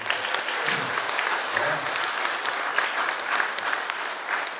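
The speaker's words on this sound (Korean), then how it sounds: "우리 아이들 위해서 뜨거운 격려의 박수 한번 드리겠습니다." A church congregation gives sustained, warm applause for the children on Children's Sunday, a dense and steady wash of many hands clapping throughout with no talking.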